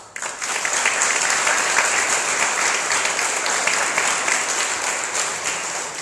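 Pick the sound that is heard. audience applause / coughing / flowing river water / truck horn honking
audience applause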